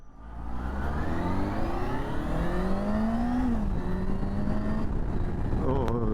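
Yamaha FZ6 motorcycle engine on a city street in Bangalore, revving loudly and continuously with rising pitch sweeps, the tone climbing then dropping through gear changes, close and steady for the whole stretch.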